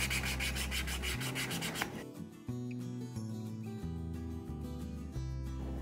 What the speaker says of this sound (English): I'm just taking a little bit of wax here and I'm gonna rub that on.